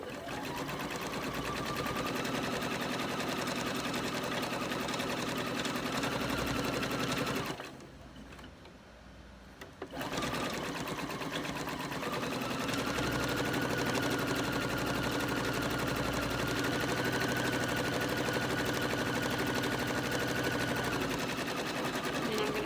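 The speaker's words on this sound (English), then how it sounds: "Take a few stitches, back stitch, and then sew all the way down." Sewing machine stitching a long seam on a fabric hair scrunchie, running steadily and loud with a brief pause partway through before continuing.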